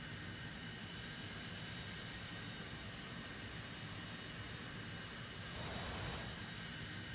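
Steady, continuous roar of a Dassault Etendard IV jet engine in War Thunder, a broad constant rush at high altitude near 96% throttle, swelling slightly late on, with no talk.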